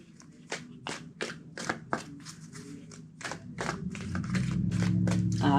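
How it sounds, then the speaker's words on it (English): A deck of tarot cards is shuffled by hand in a series of crisp riffling bursts and taps, close and fairly loud, with a tonal hum underneath that grows toward the end. "2 more shuffles."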